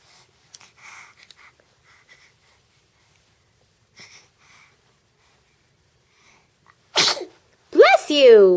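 A small child sneezes near the end, preceded by a sharp breathy burst and followed by a voiced, falling squeal-like sound, after quiet stretches with faint soft noises.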